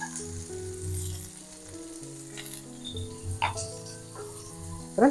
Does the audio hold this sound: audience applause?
no